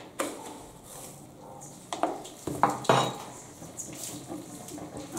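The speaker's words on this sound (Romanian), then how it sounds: "Se amestecă bine, bine." Buckwheat meatball mixture with breadcrumbs being mixed in a bowl, giving scraping and clattering utensil-against-bowl sounds with a few louder knocks, close by.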